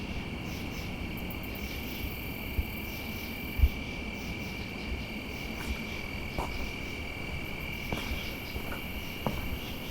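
Steady insect chorus of crickets and grasshoppers, a continuous high buzzing trill with scattered faint clicks, outdoors with no talking.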